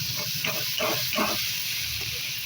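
Paneer goes into hot oil in a pan with shrimp, giving a steady close sizzle under a constant hiss, with a few short bubbling pops and crackles.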